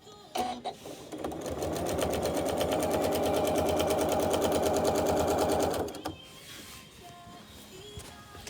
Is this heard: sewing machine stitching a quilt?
yes